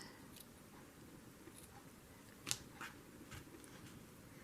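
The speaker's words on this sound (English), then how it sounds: "the easier way to do this is to cut the purple first" Scissors snipping through craft felt for a journal decoration, a few faint, sparse cuts spaced out over a quiet room with no talking.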